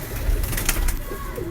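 Teddy and Banke mixed-breed pigeons coo softly at close range in a short, steady low murmur, with no voices over them.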